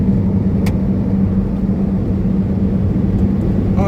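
Steady low rumble of a car driving along a road, constant engine and tyre drone close and loud throughout, with a faint click partway through and no talking.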